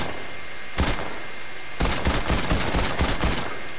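Fortnite weapon fire: one short burst of shots, a pause, then a longer rapid string of close, loud gunfire with no talking.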